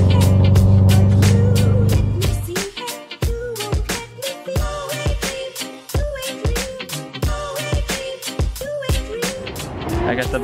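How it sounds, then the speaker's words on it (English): A drift car engine at a Formula Drift Pro2 event in Texas, 2019, holds a low steady drone, then revs hard in a fast series of loud, rising and falling bursts with sharp pops, close and dominant. "I hear a car, it sounds beautiful."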